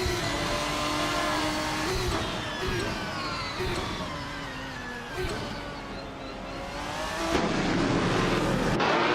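Race cars roaring off the line at the start of a video game race at Indianapolis F1, led by a 2004 Ferrari 550 GTS, engines revving loud and continuous with rising and shifting pitch.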